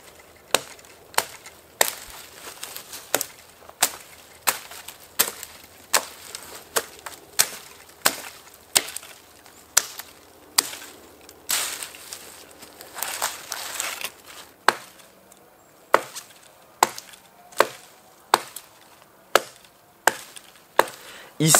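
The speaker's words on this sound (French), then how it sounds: "Ici, je travaille en coupe à la volée, afin de séparer une bille d'épicéa de 10 cm de diamètre environ." A Sika 150 bushcraft knife chops through a spruce log about 10 cm thick, using swinging blows. Sharp wooden thwacks strike at an even rhythm roughly once a second, close and crisp, with a quicker burst of hits in the middle.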